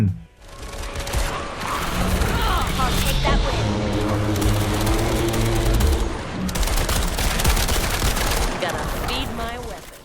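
Rapid automatic gunfire from the video game Toxic Commando rattles in dense, loud bursts, heavy and punchy with echoing booms, running nearly continuously, while a voice speaks over the shooting.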